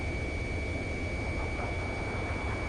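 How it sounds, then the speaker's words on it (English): A stall warning tone in Ace Combat 7, a steady sustained beep held over constant loud jet engine noise, with no talking. "Stall warning"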